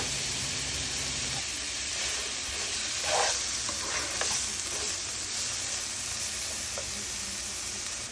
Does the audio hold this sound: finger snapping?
no